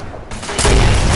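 Fortnite explosions in a random duos match, a quiet lead-in giving way to a sudden loud booming burst of blasts that rolls on heavily to the end.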